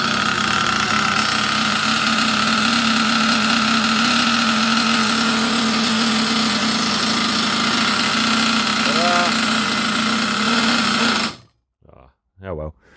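An HPI Savage 25 nitro RC truck engine runs indoors in a loft, a loud, steady high-pitched buzzing whine that holds for about eleven seconds before cutting off abruptly, followed by a few brief faint sounds.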